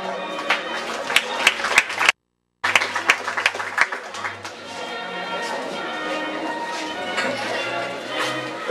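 Audience applause at a ninth-grade graduation ceremony in Cantón El Trillo, a dense patter of clapping with a brief drop-out in the middle, then steady clapping continuing over a low background hum.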